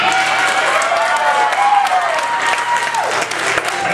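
An audience of a comedy show claps and cheers in a dense, continuous burst of applause filling the room for a few seconds.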